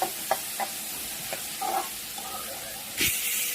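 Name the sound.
cashews frying in oil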